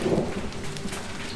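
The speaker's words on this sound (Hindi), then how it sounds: "बहुत हैवी किस्म की बारिश हो रही है।" Heavy rain pours down on a mountain hiking trail between Nathia Gali and Mushkpuri in rainy weather, a steady dense hiss with no voices and no breaks.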